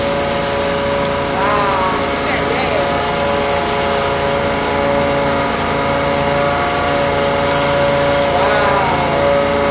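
Contractors Enterprise pressure washer running at close range, a loud steady engine whine with a hissing spray layered over it, continuous throughout, with people talking faintly underneath.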